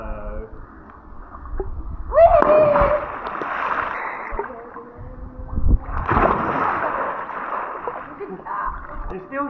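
A child jumps into water, making two splashes a few seconds apart, each a burst of spray and churn that settles into gurgling, with people talking around them in a garden pool setting.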